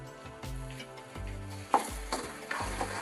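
Chopped tomatoes sauté in a pan with a soft, low sizzle, punctuated by a few rhythmic scraping stirs and light knocks of a utensil, fairly quiet and close, with no voices.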